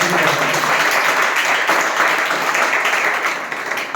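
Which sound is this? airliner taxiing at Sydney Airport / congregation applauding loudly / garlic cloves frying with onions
congregation applauding loudly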